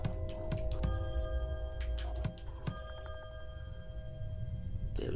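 A telephone rings in the Slayaway Camp video game, a repeated electronic bell tone over game music with several sharp clicks and hits.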